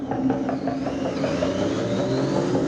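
A police motorcycle pulls away on an expressway during a speed check and accelerates hard, its engine note rising in a steady loud whine close by, with no talk.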